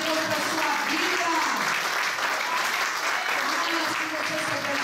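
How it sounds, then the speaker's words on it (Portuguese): A church congregation applauding the Lord, a loud unbroken wash of many hands clapping, with voices calling and singing out over it throughout. "Irmãos, aplauda o Senhor"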